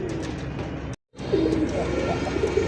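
Coloured pigeons coo softly within a dense, busy background of continuous noise, broken by one abrupt momentary silence, with faint voices in the mix.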